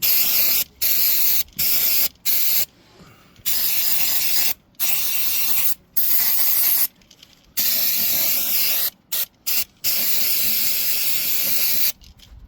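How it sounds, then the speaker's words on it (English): Brake cleaner sprayed in repeated hissing bursts onto the rear brake parts of an MK6 Fiesta ST150, loud close aerosol blasts of varying length separated by short gaps. "spray everything with some brake cleaner"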